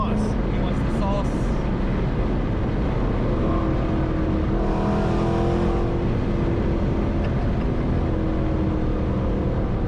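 A supercharged 5.7 Hemi engine rumbles loudly and steadily, with a rise in revs partway through, while people talk and react close by over the engine noise.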